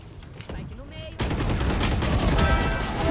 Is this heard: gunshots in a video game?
yes